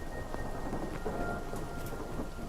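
Steady rain and rumbling thunder fill a stormy outdoor scene in the video game Hytale. The downpour hiss is constant and dense throughout, with no voices.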